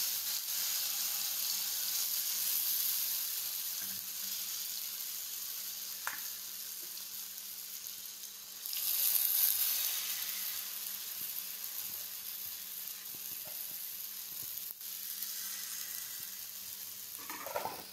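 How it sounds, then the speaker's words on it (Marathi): Oil and cumin seeds sizzle on a hot griddle in a continuous close hiss that holds steady and swells briefly midway, with faint clinks and no talking. "तवा गरम झालेला आहे, आपण आता यावरती तेल टाकूया, थोडेसे जिरे टाकूया,"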